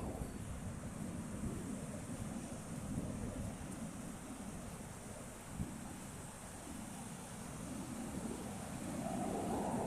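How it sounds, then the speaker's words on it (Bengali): Sea waves roll in a continuous low roar mixed with wind buffeting the microphone, steady and fairly faint, with no voices. "দেখেন সাগরটা দেখেন কি সুন্দর দেখা যায়, সাগরের ঢেউটা দেখেন।"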